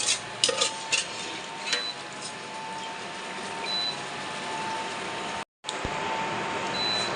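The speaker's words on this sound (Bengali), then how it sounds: "এখন ভুড়িগুলো আমি মশলার সাথে ভালোভাবে কষিয়ে নেব।" Beef tripe frying with spices in a pan, giving a steady, even sizzle with a few light utensil scrapes near the start and a brief cut in the sound near the end.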